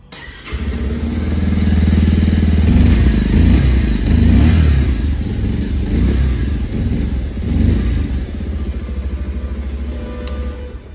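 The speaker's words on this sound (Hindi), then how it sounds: "एक बार मैं आपको इस बाइक का एग्जस्ट नोट सुना देता हूँ" A Bajaj Pulsar 125 motorcycle engine idles, then revs up several times, its exhaust rumbling loud and close before settling back toward idle.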